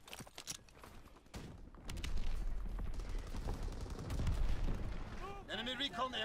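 Machine pistol gunfire in the video game Call of Duty WW2, with rapid bursts and booming battle noise building over several seconds, layered with game sound effects and a player talking.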